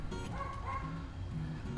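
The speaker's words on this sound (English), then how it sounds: "We got dogs going crazy in the neighborhood" Several neighborhood dogs bark and yip excitedly in the background, a run of overlapping bow-wows carrying from a distance outdoors near an offset smoker while meat cooks.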